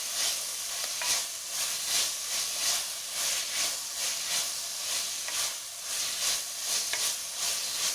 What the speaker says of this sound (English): just leave it for a few minutes, not minutes, maybe a few seconds, till it gets browned and fried a little